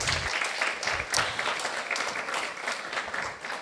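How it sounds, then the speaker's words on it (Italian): A seated audience at a women's association cultural evening breaks into loud, sustained applause, a dense continuous wash of clapping with a few sharper peaks, no voices over it. "facciamo un grande applauso"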